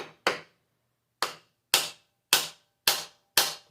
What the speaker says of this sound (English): And then we'll use a lead hammer here